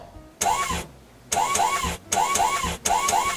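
A car engine is cranked over repeatedly, with several short whirring starter bursts separated by brief pauses, each rising in pitch, close and fairly loud.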